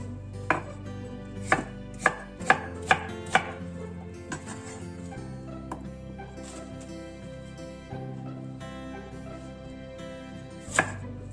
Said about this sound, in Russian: Все овощи для этого салата будем резать крупно.